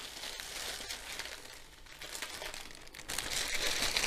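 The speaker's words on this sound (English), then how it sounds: "So I'll just cut along the top, making sure I don't cut anything inside the bag" A plastic bag holding a diamond painting kit is cut open along the top and unwrapped, giving close, continuous crinkling and rustling.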